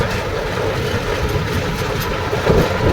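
A tractor hauling soil rolls past close by, a loud, continuous, gritty engine rumble and rattle that swells slightly toward the end.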